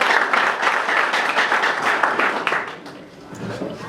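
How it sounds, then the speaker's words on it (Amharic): A church congregation at a welcome service claps in praise, a full, steady round of applause that fades near the end as voices rise in the room. "ለጌታ እስኪ አጨብጭቡ"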